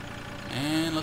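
A harvester engine in Farming Simulator 2013 starts up and runs at night, its steady hum rising and holding in the second half, close and moderately loud.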